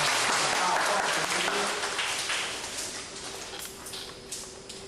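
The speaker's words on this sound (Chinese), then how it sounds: "我们以非常热烈的掌声来欢迎我们的荣邦讲师" An audience at a lecture on running a communal meal group claps warmly to welcome the lecturer. The applause starts full and loud, then gradually thins and fades, with a few voices mixed in.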